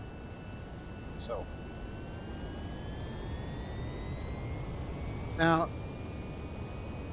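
Steady, even whine of VTOL aircraft engines spooling for a vertical takeoff in the VTOL VR flight game, with faint rising tones over a broad hum as someone briefly talks.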